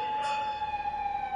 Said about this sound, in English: There were certainly plenty of sirens.